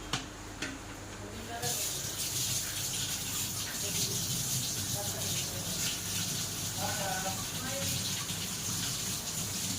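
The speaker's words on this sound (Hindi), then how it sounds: "तो अब इसे मैं गर्म पानी से धो कर रख दी थी" Hot water runs steadily from a tap over a cooking utensil being washed in a home kitchen, a continuous splashing gush that starts after a brief pause, with someone speaking over it.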